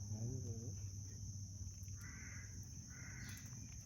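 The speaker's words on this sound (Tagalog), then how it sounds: "Malapit yung uwak tol." Two harsh crow caws sound at a moderate distance, separated by a short pause, over a steady background hum and some low murmuring.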